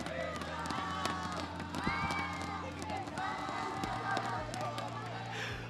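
Brazilian fans at an LTA watch party cheer and roar as one continuous wall of crowd noise, with a commentator talking over it throughout.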